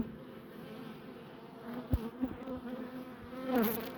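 Steady low buzzing of many honeybees at a hive, close and continuous, with a few soft knocks and a brief louder rustle near the end; no speech.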